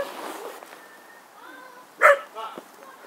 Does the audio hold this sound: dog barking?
yes